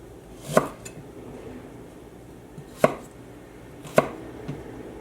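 Fresh ginger being diced with a knife on a cutting board in a small home kitchen, giving three sharp, close knife taps spread irregularly over a quiet background with no talking.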